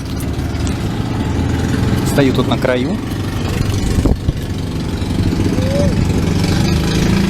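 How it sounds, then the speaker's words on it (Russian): Boat engines idle in a steady low rumble at a Philippine beach, with someone talking over it and some background voices. "Снова лодки."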